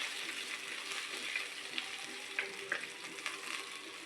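Dried chilli, garlic and shallot frying in a pan, a soft, steady crackling sizzle heard quietly and close, with occasional small pops and no talking.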